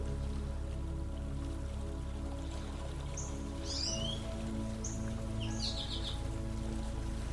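Steady rain falls around a campsite as a soft, continuous hiss with a low rumble, while a few distant birds chirp briefly near the middle, with no voices.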